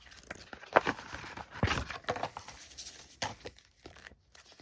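A K-pop album package, the mono version, is torn open by hand at close range, with repeated ripping and crinkling of paper and plastic in irregular bursts and no talking.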